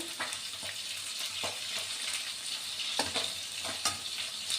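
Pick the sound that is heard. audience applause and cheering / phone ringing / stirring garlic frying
stirring garlic frying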